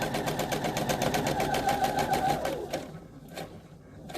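Sewing machine stitching flannel for doll pillows, a steady rapid mechanical whir for about three seconds before stopping, then brief light clicks as the fabric is pivoted under the presser foot.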